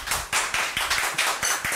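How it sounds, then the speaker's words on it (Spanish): Studio audience applause on a Spanish-language talk show, a short burst of steady clapping with sharp individual hand claps standing out, fairly close and with no voices over it. "Un aplauso, ya regresamos con más."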